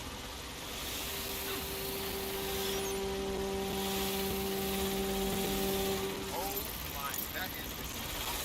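A hacked drone in Watch Dogs: Legion hovers with a steady whirring hum and a pitched tonal whine that rises and falls, alongside a game voice speaking over the sound.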